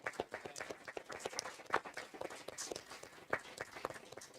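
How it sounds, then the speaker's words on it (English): Scattered applause at a school board meeting, a small group clapping unevenly with sharp individual claps and some shuffling movement nearby. "So round of applause."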